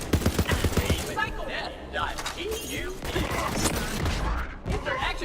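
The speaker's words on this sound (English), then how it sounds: "Fan of the assault rifle" Rapid assault rifle fire bursts out in Borderlands 3 at the start, then trails into scattered shots and impacts under ongoing talk and game noise.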